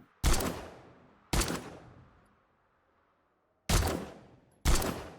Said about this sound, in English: That took a good like 30 shots to take down